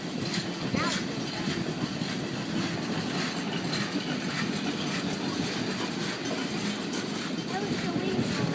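Passenger train rolling past in Van Meter as a steady, broad rumble and hiss of wheels on rail, heard from trackside at moderate distance with no clear voices over it.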